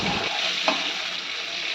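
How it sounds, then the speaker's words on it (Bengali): Potatoes frying in a pan at home, giving a steady, close sizzle with a faint crackle partway through and no voices. "মা এখানে আলু ভাজা করছে।"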